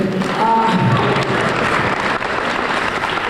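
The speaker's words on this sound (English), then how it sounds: "Yes, you can clap, that's great." An audience at a school assembly breaks into applause, a full, continuous wash of clapping filling the room with a brief voice heard at the start.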